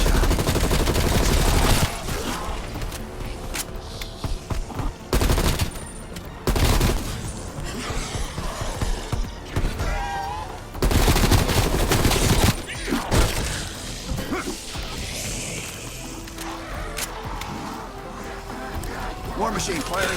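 The War Machine grenade launcher fires in Call of Duty: Black Ops Cold War, loud heavy blasts and crashing explosions in rapid bursts, separated by brief quieter gaps, with dense game noise throughout.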